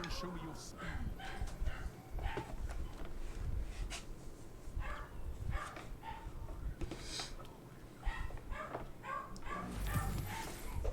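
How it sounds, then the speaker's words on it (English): A puppy locked in a crate barks, yips and whimpers repeatedly in the background, under steady game-stream sound. "my puppy's going nuts because he's locked in the crate"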